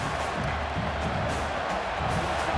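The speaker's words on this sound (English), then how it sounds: "The roar of the crowd trying to fuel this defense to keep them pinned in their own end." Stadium crowd roaring steadily at a college football game between Ole Miss and LSU in an SEC video game, a dense continuous wash of cheering that stays loud throughout with no break.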